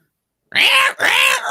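A person imitates cats fighting in two loud, strained yowling bursts back to back, close and harsh after a moment of silence.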